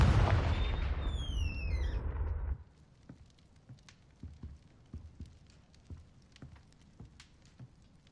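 A Confringo fire spell in the Hogwarts video game bursts with a loud, crackling explosive blast and fizzing sweep, then cuts off after a couple of seconds, leaving faint scattered taps and clicks of ambience.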